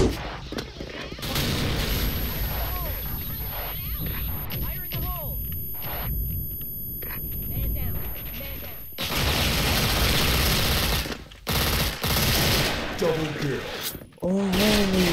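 Rapid bursts of automatic fire from dual MP9 submachine guns in an online shooting game, loud and repeated over game effects, with someone talking between and over the shots.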